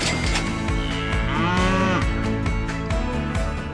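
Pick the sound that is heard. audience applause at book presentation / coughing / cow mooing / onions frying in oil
cow mooing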